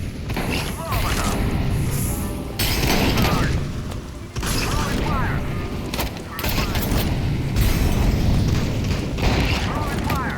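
Gunfire and explosions from a multiplayer shooter game on a rainy night map in Italy, with dense bursts of shots and booms continuing throughout, mixed with voices talking.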